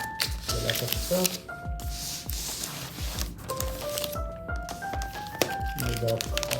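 Wax paper packaging crinkles and rustles close up while a Lenovo ThinkPad X1 Carbon Gen 12 laptop is unboxed, soft irregular crackles running under steady background music and a voice talking.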